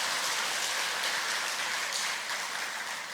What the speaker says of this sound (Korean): 우리 참소망 찬양대원들에게 힘찬 격려의 박수